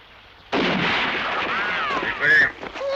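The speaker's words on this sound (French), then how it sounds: "je vais lui mettre une balle entre les deux yeux" A gunshot in a 1975 action film scene erupts suddenly and loudly after a quiet moment, followed by a sustained rumbling tail with voices crying out beneath it.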